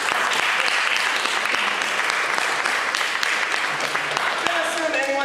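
Audience clapping at a tabletop gaming talk, continuous and fairly loud throughout, with scattered sharper individual claps standing out from the dense wash.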